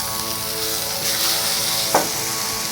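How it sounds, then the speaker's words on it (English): A tomahawk steak sears on a Blackstone griddle, a steady close hiss of sizzling fat with a brief flip sound near the end. "And I'll keep flipping the steak so we can get a sear on every side."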